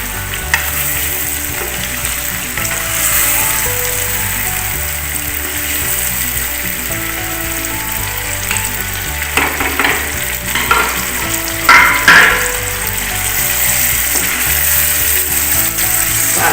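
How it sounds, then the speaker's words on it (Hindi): Achari chicken handi masala frying in a hot pan as tomato paste goes in, a steady loud sizzle with occasional stirring scrapes and clinks, no talking. "टमाटर पेस्ट डालने लगे हैं।"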